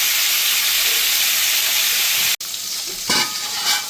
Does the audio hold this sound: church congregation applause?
no